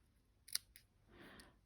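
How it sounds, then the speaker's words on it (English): Ribbon scissors trim paper for a handmade card, giving one quiet, close snip followed by a softer second cut and a faint papery rustle in a quiet room. "where's my ribbon scissors? Just going to trim there"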